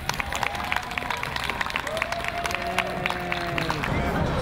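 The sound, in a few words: crowd applauding at a Philadelphia civic award ceremony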